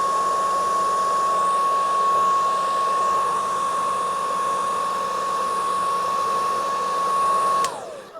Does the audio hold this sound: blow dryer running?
yes